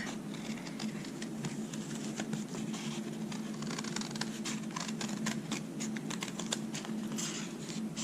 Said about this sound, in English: you can just cut along these bold lines